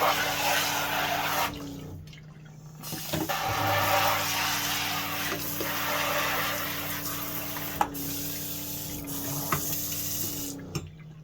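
Steady rush of water running from a kitchen tap in an RV with an on-demand hot water system, loud and close, briefly interrupted and then flowing on, with a few small knocks and no talking.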